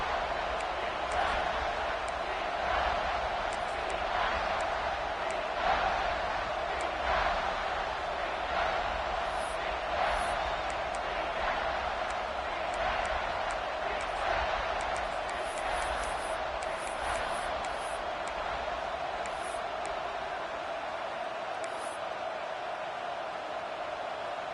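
Steady stadium crowd roar from a College Football 26 game between Tennessee and South Carolina, holding loud and continuous with faint whistles and cheers rising above it.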